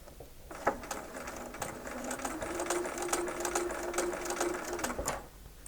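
A sewing machine runs steadily at close range, its rapid needle stitching forming a dense continuous whir with faint ticks, slowing as it is eased around a corner with reduced stitch length on a pieced eight-point star.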